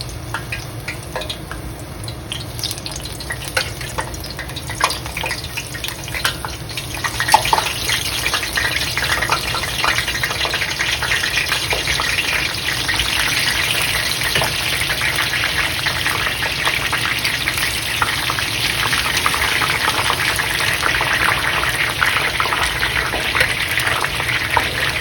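Pieces of dry cod fry in hot oil on medium-high heat, a steady close sizzle and bubbling hiss that holds on without pause.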